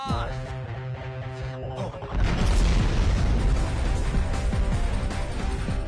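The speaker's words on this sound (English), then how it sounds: "that explosion was no joke" A loud movie explosion from the action film Thuppakki erupts after a quiet musical passage, a sudden broadband blast followed by a sustained roaring, rumbling aftermath.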